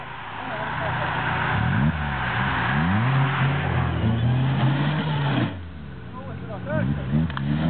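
A car engine revs and climbs in pitch repeatedly as the car pulls away, loud and close, with people talking over it and a brief drop before the engine surges again.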